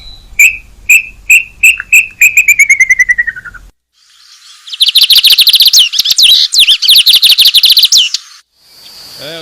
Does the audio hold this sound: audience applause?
no